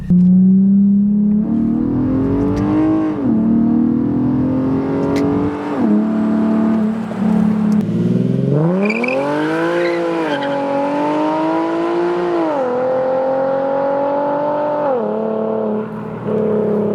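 A Nissan G37 with a custom exhaust revs hard and climbs in pitch through the gears, loud and close, with a raspy, rumbling exhaust and brief tire noise.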